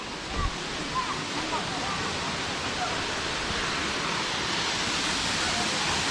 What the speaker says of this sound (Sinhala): ඔන්න එහෙනම් අපි ආවා පල්ලේ වල ඇල්ල බලන්න යාළුවෝ.